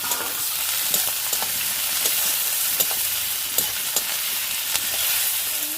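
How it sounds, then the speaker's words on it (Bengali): Onion, garlic and tomato sizzle in a hot pan with a dense, steady frying hiss, punctuated by regular knocks and scrapes of a spoon stirring, close up and without speech. "আমার পেঁয়াজ রসুন টমেটো সব কিছু ভাজা হয়ে গেছে"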